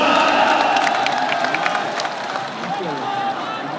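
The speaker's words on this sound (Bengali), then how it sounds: "আমরা সবাই করতালির মাধ্যমে নেতাকে স্বাগত জানাই।" A large crowd claps and cheers at an outdoor election rally in Khulna, with steady applause and a voice talking over it throughout.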